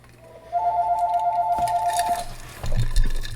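A telephone rings nearby with a rapid warbling electronic trill lasting about a second and a half, followed by faint clicks and handling noise as it is stopped.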